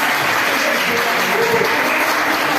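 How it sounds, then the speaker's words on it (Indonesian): Applause at a teachers' training program session, a dense, steady burst of clapping from a group filling the room at full volume. "Kita beri tepuk tangan yang meriah."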